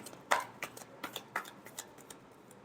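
A deck of tarot cards being shuffled: a quick run of soft, close flicks and riffles in a steady rhythm, quiet overall.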